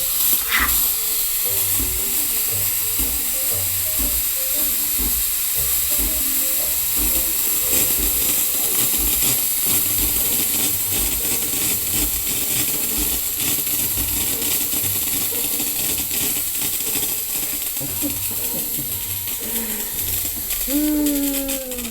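The steam wand on a milk frother hisses continuously, a loud, bright rush of steam that keeps up steadily, with faint clicks and a little bubbling underneath.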